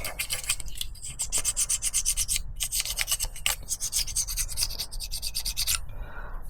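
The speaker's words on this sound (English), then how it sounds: "Maybe I'll deburr all of these." A Lotus Elan engine part is deburred by hand, with quick rhythmic rubbing strokes of a file or abrasive, close and fairly quiet, with no talking.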